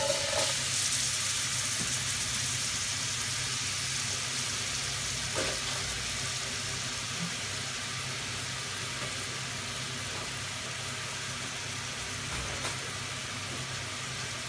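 Onions frying in a cup of vegetable oil in a pot give a steady, moderate sizzle with broadband crackle, holding evenly throughout with a few faint clinks.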